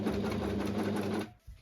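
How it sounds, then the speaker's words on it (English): A sewing machine stitching a linen skirt waistband, a fast steady whirr close by for just over a second before it stops. "And while you're sewing, make sure to pull a little bit on the band to sew a straight line."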